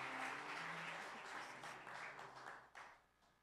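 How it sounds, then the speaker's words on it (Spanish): A church congregation applauds, dense clapping that starts strong then thins and fades out over a few seconds, fairly quiet and distant. "And let's bless the life of this man with a strong applause."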